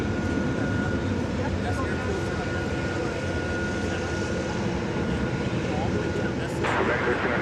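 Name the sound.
Boeing 747 jet engines at DFW Airport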